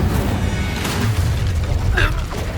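An Incendio fire spell blasts in the video game Hogwarts Legacy, a loud, close booming burst with a roaring whoosh amid combat noise.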